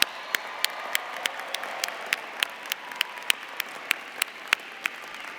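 Applause fills a university commencement ceremony for the College of Liberal Arts and Sciences at the University of Illinois at Chicago, a steady wash of many hands clapping from a large crowd with a few sharper nearby claps cutting through.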